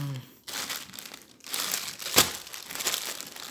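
Plastic packaging around a white button-up shirt crinkles and rustles during an unboxing, with irregular bursts of close crackling and one sharper crunch midway.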